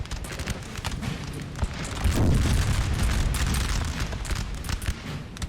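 Artillery fire in the Napoleonic-era battle game Napoleon: Total War, a continuous low rumble of booming cannon blasts that swells in the middle and rolls on beneath battlefield din.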